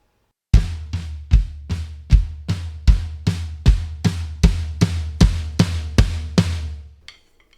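A drum kit plays a build beat: a steady run of about fifteen evenly spaced, punchy hits with crashing cymbal wash, loud and close, ending abruptly after about seven seconds.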